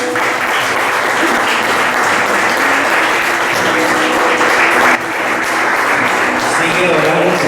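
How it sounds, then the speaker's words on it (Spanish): A church congregation claps loudly and continuously through a Sunday service, dense applause that fills the space, with voices heard over it. "Un aplauso para el Rey."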